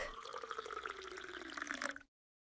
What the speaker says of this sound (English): I am pouring some milk.